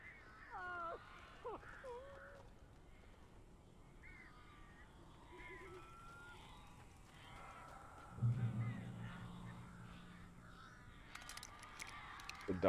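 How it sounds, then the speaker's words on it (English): Crows caw in the video game Alan Wake, a few separate harsh calls rising over a dim, murky ambient bed, with a louder low burst of noise late on. "These birds are weird."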